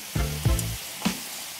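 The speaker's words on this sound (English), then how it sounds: "Make sure that your frying pan is hot, so the cherries go straight into the frying pan." Pitted cherries hit a hot frying pan, giving a few short bursts of sizzling and crackling that quickly settle into a soft frying hiss.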